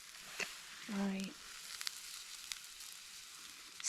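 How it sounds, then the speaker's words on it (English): Chunks of cooked sweet potato sizzle in a fry pan at a snowy winter campsite, with a steady crackling hiss and a brief scraping stir near the start. "like when the sweet potato cooks, if you've never put it in a fry pan before, it kind of caramelizes"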